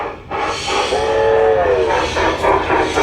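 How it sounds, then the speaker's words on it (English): Model garden railway train running along outdoor track, loud and close, with a steady rolling rumble and a sustained whistle-like tone in the middle, no talk. "someone has creatively figured out a way to bring the train right out of the building onto the track"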